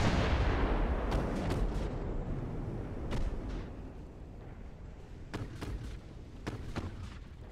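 A torpedo strike on a warship in the naval game Ultimate Admiral: Dreadnoughts: a deep, loud rumbling boom opens and slowly fades, followed by scattered sharp distant cracks of naval gunfire.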